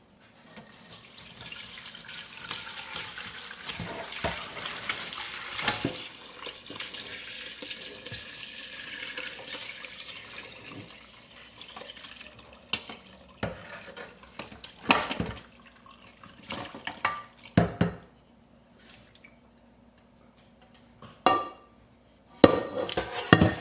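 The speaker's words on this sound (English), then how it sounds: "now we're going to pour our bone broth into our pot with our strainer" Homemade bone broth pours through a strainer into a pot, a steady splashing flow that trickles and drips, then ends in scattered clinks and knocks of the pot and strainer.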